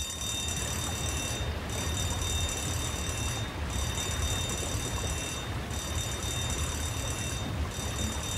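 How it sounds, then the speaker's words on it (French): An alarm in the video game Far Cry 5 rings in a repeating pattern, bursts of bright ringing roughly every two seconds over a steady background hum, moderately loud with no talking. "Il y a peut-être une alarme"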